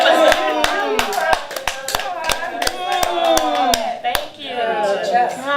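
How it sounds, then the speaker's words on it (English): Sharp, evenly spaced hand claps ring out at a talk-show taping, a steady rhythmic clapping with voices speaking over it. "Y'all can clap for me."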